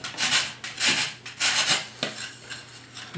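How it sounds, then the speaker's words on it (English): A drywall file scrapes back and forth across a drywall edge in a series of about six rasping strokes, each a bright, gritty burst, close and steady with short pauses between. "I just use a drywall file."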